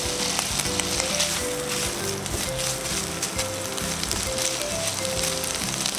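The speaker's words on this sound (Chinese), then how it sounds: "倒入木耳，翻炒2分钟。" Wood ear mushrooms stir-fry in a wok with a steady, loud sizzle and occasional scraping stirs, while soft background music plays underneath.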